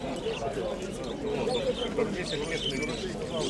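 Pigeons coo softly among the birds at a Dnipro poultry fair, a low murmur running beneath steady nearby conversation.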